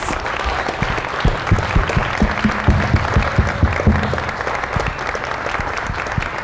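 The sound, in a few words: audience applause after children's performance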